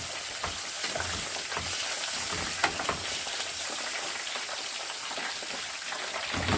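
Onions frying in oil in a pan for minced-meat moussaka, a dense continuous crackling sizzle up close with occasional sharper pops, steady throughout and free of speech.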